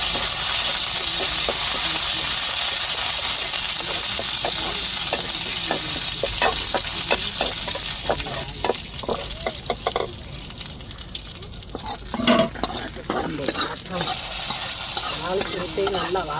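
Drumstick leaves hit hot oil during tempering for a kuzhambu, a loud, dense hiss of sizzling and spattering with sharp crackling bursts and stirring that eases slightly toward the end.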